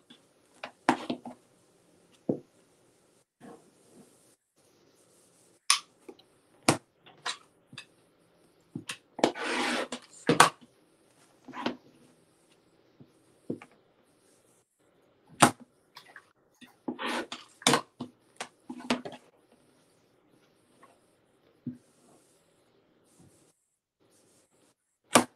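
Quilt blocks get a quick trim with short, dry scraping cuts in scattered bursts and brief clusters, separated by quiet pauses, with no one talking.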